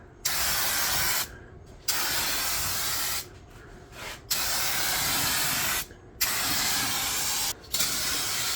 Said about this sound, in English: the best way to spray an engine bay